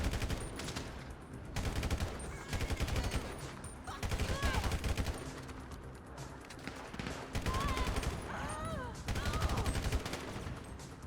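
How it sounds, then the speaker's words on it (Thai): Gunfire from the video game GTA V with a zombie mod crackles as repeated rapid bursts of shots mixed with game sounds, fairly quiet overall, with a voice talking over parts of it. "เฮ้ยทำไมปืนมันยิงแล้วมันดีมากเลย"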